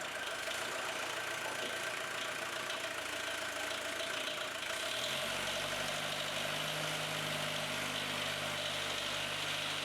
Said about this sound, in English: Get it on the forklift and get it out the workshop.